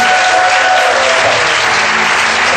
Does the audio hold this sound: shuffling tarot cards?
no